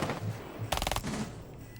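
SMG-12 submachine gun firing in a video game, a single quick burst of several rapid shots in close succession, heard clearly over faint background game sound.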